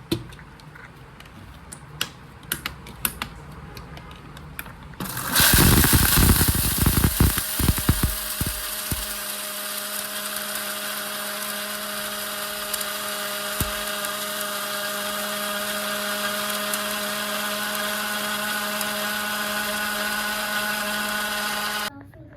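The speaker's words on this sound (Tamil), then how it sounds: "இப்போ இதை நம்ம வந்து அரைச்சி எடுத்துக்கலாம்." A kitchen mixer grinder whirs loudly as it grinds dry idli podi spice powder with asafoetida, starting with a burst after quiet handling and then running steadily at high speed until the end, with no talk.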